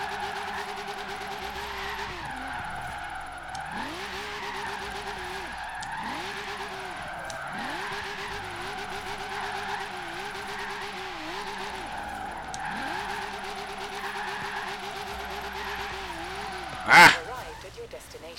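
A Toyota AE86 drift build in Forza Horizon 3, its engine revving in repeated rising and falling swells as it slides through a narrow area, steady and close, with one brief sharp clatter near the end.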